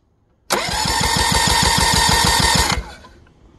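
A four-stroke outboard boat motor that runs rough cranks with a rapid, even chugging, then catches and roars steadily for about two seconds before cutting off abruptly. It is loud and close, with no talking.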